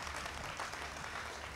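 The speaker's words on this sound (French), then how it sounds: "applaudissez-la s'il vous plaît" Applause from an audience at a televised quarter-final nomination show, a short dense burst of clapping at moderate volume.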